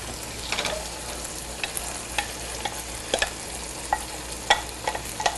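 Canned tomato sauce, two cups, stirred into a mixture in a pot, giving a steady soft scraping under a faint sizzle, with scattered light clicks of the spoon against the pot.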